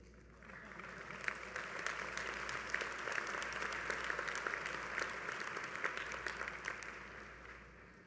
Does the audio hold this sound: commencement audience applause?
yes